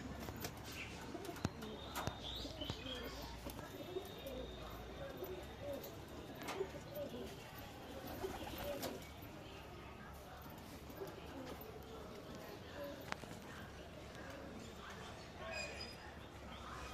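Pigeons coo in a home loft among strong, active bloodline birds, a steady low murmur of birds under a man's speech throughout, with occasional chirps and a few sharp knocks.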